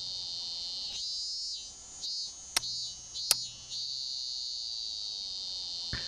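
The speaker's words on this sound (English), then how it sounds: "Thank you, cicadas." Cicadas in a video game, a loud continuous high-pitched drone that drops briefly and returns, with a couple of sharp clicks, no talking.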